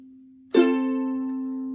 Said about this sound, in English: This F should sound like this. And with the pick.